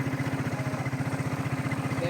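A 1992 Suzuki Quadrunner ATV engine idles after a cold start with a steady, rapid low putter, loud and close, with no pauses and no revving.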